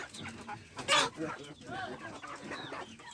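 Chickens clucking close by, with a sharp louder squawk about a second in, amid a busy farmyard background.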